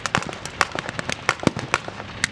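Pyrotechnic blasts go off at Tankfest 2023, a tank battle display with a Sherman in the action: a rapid string of sharp, crackling pops and bursts, about eight in under three seconds, fairly close and loud.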